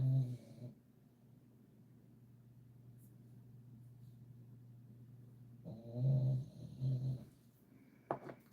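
A sleeping dog snoring softly nearby, with two low rumbling breaths at the start and again later, separated by a quiet hum, and a faint tap near the end.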